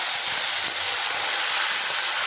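Tomato puree frying in a pan for a potato, peas and beans curry, giving a steady, even hiss that holds without a break and stays alone with no talk over it.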